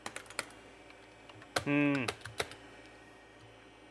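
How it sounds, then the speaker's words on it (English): Keys on a Tandy 2500 RSX retro computer keyboard being pressed, a quick run of clicks and taps followed by a tonal beep, with a brief spoken word. "Pushing all the usual buttons."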